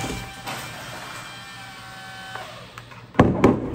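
A remote-control plane's electric motor spins up with a thin steady whine, then gives a few louder, sharper bursts as the throttle is opened near the end.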